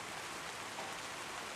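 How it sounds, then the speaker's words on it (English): Rain falling on leaves, a dense, even hiss of countless small drops with no distinct rhythm, steady and moderately soft throughout the short stretch, alone without voices. "Imagine the rain on the leaves,"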